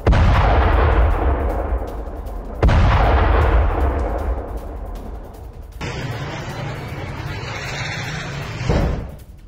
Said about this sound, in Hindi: इजराइल ने ताबड़तोड़ बम वर्षा की है यमन में